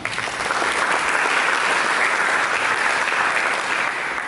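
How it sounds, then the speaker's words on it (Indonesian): A church congregation claps during a sermon, producing a sustained, even wash of applause that holds at a moderate level for several seconds with no voices over it. "Mari kita berikan tepuk tangan"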